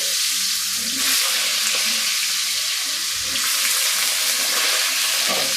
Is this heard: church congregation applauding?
no